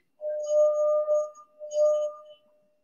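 A drinking glass struck and left ringing on a low musical note, sounding twice in succession with a clear sustained tone that decays, heard alone.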